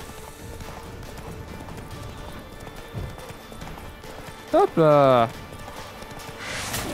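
Hooves clip-clop rapidly as a horse gallops in The Witcher 3 on PC, with a short neigh partway through, while someone speaks in French over the game audio.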